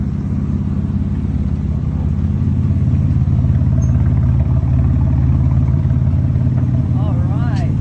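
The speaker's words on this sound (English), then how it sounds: "this is a concept car that sounds like that" A concept car's engine gives a loud, deep, continuous rumble nearby, with a brief rising whine near the end. Voices can be heard talking over it.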